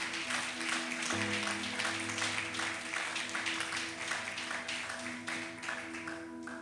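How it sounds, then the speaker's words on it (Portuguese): A Baptist church congregation applauds with a dense, continuous patter of many hands. Sustained keyboard tones play underneath, and the clapping fades slightly toward the end. "Se você quiser aplaudir Jesus"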